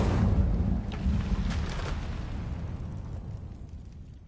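Incendio fire spell cast in Hogwarts Legacy, a rushing whoosh and burst of flame with a low rumbling roar that peaks early and then fades away over a few seconds.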